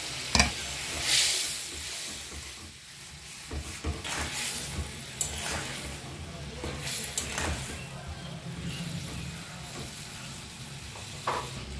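Eggplant pieces going into a pan of simmering Rupchanda pomfret fish curry, with stirring scrapes and a moderate sizzle over the full stretch, plus occasional clinks of a utensil.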